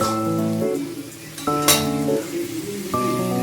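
Potato and pumpkin curry is stirred in a frying pan, a soft steady sizzle with clinks of the spoon against the pan, under background tonal sound.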